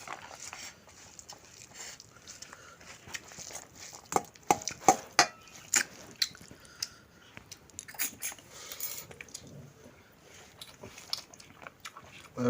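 Someone eating village-style country chicken curry with tender potato and whole garlic, close wet chewing and smacking with sharp clicks and bites, irregular and fairly quiet, with brief speech.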